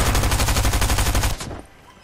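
Rapid automatic gunfire from a video game shootout on a bridge, a fast burst of loud, evenly spaced shots lasting over a second before cutting off into a fading tail.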